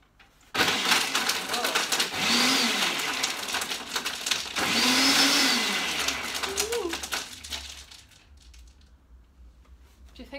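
A blender crushes ice for a Scotch sour cocktail, roaring loudly in two long surges with a brief dip between, then winding down into quieter rattling.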